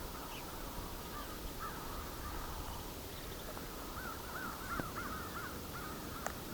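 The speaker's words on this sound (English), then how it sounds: "There's a flock of, I don't know, 70 or so crows nearby here too." A large flock of about seventy crows caws from a distance near a roadside, scattered harsh calls repeating over steady wind noise, faint and spread out with no talking.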